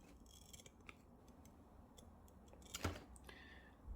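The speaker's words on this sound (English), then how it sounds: "these are super sharp scissors" A single quick snip of sharp scissors cutting through braided sleeving on custom Harley leads, close up, in an otherwise quiet room with faint ticking clicks.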